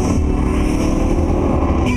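A Dodge American muscle car accelerates hard on an eighth-mile drag strip, a loud, continuous, rumbling engine roar close by and without speech.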